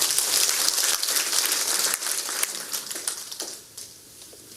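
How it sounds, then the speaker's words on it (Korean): Dense audience applause at a political speech by a provincial governor, heard as a loud, crackling wash of clapping that thins out and fades toward the end. "박수 한번 쳐주십시오."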